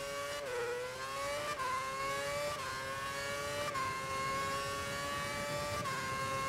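A Formula One car engine in the racing game F1 2011 at Suzuka drones continuously at steady volume, its pitch climbing and stepping down repeatedly as gears shift.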